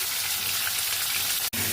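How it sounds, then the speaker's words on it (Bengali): Prawns hiss loudly and steadily in hot oil tempered with nigella seeds and green chili, a close, dense sizzle with one brief cut near the end. "ফোড়নটা ভাজা ভাজা হয়ে গেছে, এবার চিংড়ি মাছগুলো দিয়ে দিচ্ছি।"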